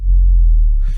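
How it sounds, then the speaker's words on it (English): A deep, loud synth bass tone sustained for about a second, ending with a brief burst of noisy texture as it drops off. "the bass dive sounds pretty cool on its own if I mute all the effects on here"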